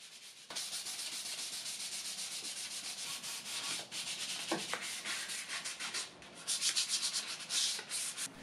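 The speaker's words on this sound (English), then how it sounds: "180 grit sandpaper, and I'm just going to be going around each and every corner of this chair" Sandpaper of 180 grit scuff-sands a cane chair, a steady dry rubbing and scratching that runs almost throughout at close range, with short strokes and brief pauses as it works around the corners; no talk.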